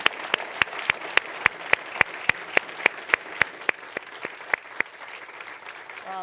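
Applause from a conference audience at a research conference on global lead exposure, with about twenty sharp, evenly spaced loud claps, as if led by one nearby clapper, before the rhythm thins into softer scattered clapping.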